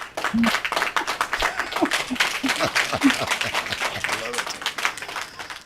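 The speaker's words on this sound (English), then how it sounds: "I still want to give you a round of applause." A small audience at an HR team panel discussion on talent acquisition claps in a brief, scattered round of applause, with individual claps popping under and between close, lively talk.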